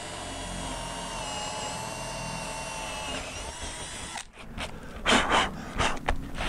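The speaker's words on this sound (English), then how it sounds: "I'm going to drill a bit of a hole here." A power drill whines steadily for several seconds, boring a hole in roof shingles, then stops, leaving breathy sounds and rustling.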